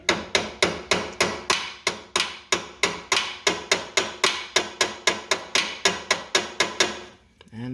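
Steady metallic hammer blows on a brake line clip of a 1983 Buick Regal, about two dozen evenly spaced sharp strikes, close and loud, ending with a brief quieter pause.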